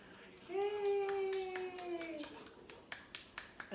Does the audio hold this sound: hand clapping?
yes